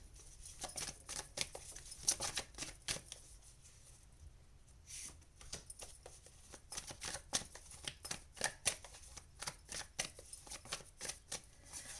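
Tarot cards are shuffled by hand in a quiet room, a close series of soft rapid riffling and slapping bursts repeating irregularly throughout, faint overall and with no talking.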